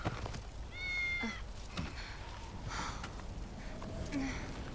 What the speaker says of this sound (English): Pick up the cat.